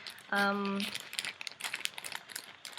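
Plastic crinkling and rustling close up, in scattered bursts after a short tonal beep, with handling noise throughout.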